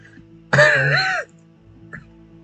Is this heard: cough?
yes